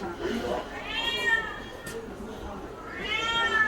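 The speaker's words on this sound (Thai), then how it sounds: "บ้านนี้มีแมว" A cat in Yokohama, Japan, gives two wavering meows a couple of seconds apart over a steady background hubbub.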